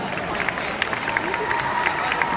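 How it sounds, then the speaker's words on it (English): A crowd at the World Irish Dance Championships applauds and cheers for the chairman during a presentation, a steady mass of clapping with scattered sharper claps and a faint murmur of voices mixed in. "Let's have a round of applause for Grania."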